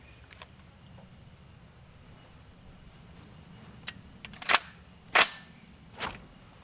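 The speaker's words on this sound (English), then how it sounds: "So now, in theory, I should be able to just clip on the thermal unit and fire again and I'll still be on." Several sharp rifle reports fire outdoors at a steel target, using a clip-on thermal adapter, spaced about a second apart in the latter half after quiet background, with smaller clicks before them.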